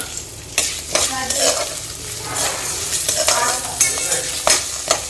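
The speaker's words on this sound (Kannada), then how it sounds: "ಈ ಸ್ಟೇಜ್ ಬಂದಮೇಲೆ ನಾನಿಲ್ಲಿ 2 ಟೇಬಲ್ ಸ್ಪೂನ ಜೀರಿಗೆ ಹಾಕತ್ತೀನಿ, ಹಂಗೆ 1/2 ಟೇಬಲ್ ಸ್ಪೂನ್ ಕಾಳು ಮೆಣಸು ಹಾಕತ್ತೀನಿ, ಮೆಣಸಿನ ಕಾಳು. ಮತ್ತು ಕರಿಬೇವು" Cumin seeds, black peppercorns and curry leaves fry in hot oil in a pan, giving a steady close sizzle with crackles and spoon-stirring scrapes throughout, no voices.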